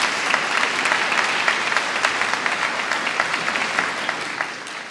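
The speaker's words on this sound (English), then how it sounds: "So I would like to give a big round of applause to all those people." A graduation ceremony audience gives a round of applause, with dense, steady clapping from many hands that carries on evenly and fades slightly at the end.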